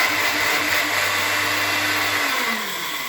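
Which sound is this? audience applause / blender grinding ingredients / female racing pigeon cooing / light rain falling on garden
blender grinding ingredients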